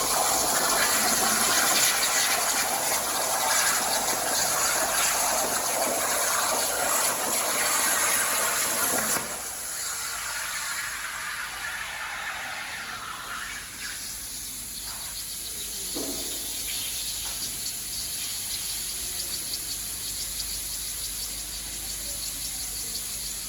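A Hugong F2300AT CNC plasma cutter cutting steadily, with a loud hissing, sizzling roar and a high whine that drops to a quieter hum partway through, followed by faint scattered clicks and rattles.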